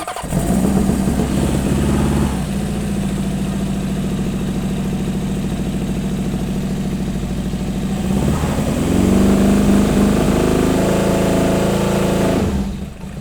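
A cold motorcycle engine cranks and starts, then settles into a loud, steady idle with a throbbing rumble. Partway through, the idle rises briefly and then runs on evenly.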